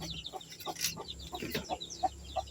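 Newly hatched ducklings in a pen give quick, high peeps and soft chirps in an irregular scatter, close and fairly faint, with light rustling underneath.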